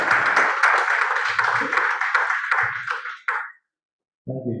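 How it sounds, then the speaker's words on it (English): Conference audience applauding a vice chancellor's opening remarks, dense steady clapping for about three and a half seconds before fading out, followed by a brief low voice. "Please let the applause continue."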